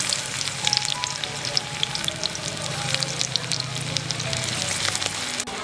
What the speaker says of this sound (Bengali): তেল খুব ভালোভাবে গরম হয়ে গেছে, এখন এর মধ্যে দিয়ে দেব কোচানো পেঁয়াজ।